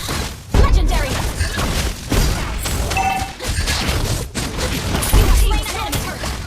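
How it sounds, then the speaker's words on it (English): An enemy turret is destroyed in the mobile game Mobile Legends, with a dense run of booms and explosive impacts. A synthetic announcer-style voice speaks over the busy battle effects. "Your team destroyed the turret."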